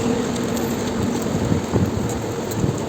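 Heavy monsoon rain in Mumbai's Dadar area pours down in a dense, steady roar, with occasional louder splashes and low rumbles underneath.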